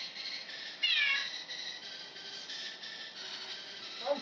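A cartoonish cat meows in the Techno Kitten Adventure video game, a short clear mew standing out over a continuous buzzing, bright electronic game soundtrack that fills the background.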